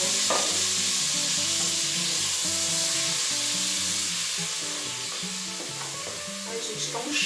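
Chopped calabresa sausage and bacon sizzle steadily in a pan, a continuous close-up frying hiss with a few spatters near the end, under soft tonal background music.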